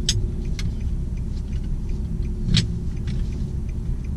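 Car engine rumbling while driving with portable hand controls, a steady low drone inside the cabin, with a few faint clicks and rattles over it.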